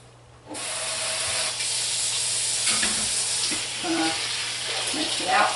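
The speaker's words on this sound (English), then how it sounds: "Mix it around a little." Lye soap mixture with activated charcoal stirred in a container, a steady hissy, sizzling wash with faint scraping knocks, running on alone after a brief quiet start.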